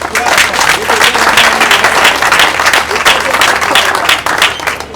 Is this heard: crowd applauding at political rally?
yes